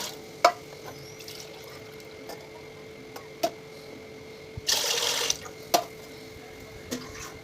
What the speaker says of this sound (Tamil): அடிகனமான பாத்திரத்தில் 3 உலக்கு தண்ணி ஆட் பண்ணிக்கோங்க.